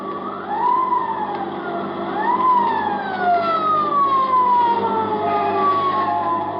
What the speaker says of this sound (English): it ain't long before I hear that old familiar sound, a motorcycle siren